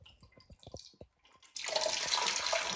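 Water flows over a holiday fountain, a few scattered drips and splashes at first, then a sudden steady, close rush of spilling water.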